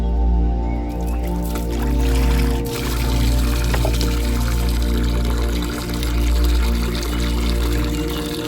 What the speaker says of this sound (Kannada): ನೀರು ಸರಿಯಾಗಿ ತೊಳೆದು ಅದರ ಹೊಯ್ಗೆಲ್ಲ ಹೋಗಬೇಕು